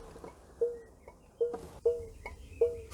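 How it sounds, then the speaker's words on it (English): A hazard flasher relay in a classic Mini Clubman clicks in a steady, evenly spaced rhythm, each tick paired with a short tonal chirp, faint and alone. "Oh, listen to the relay."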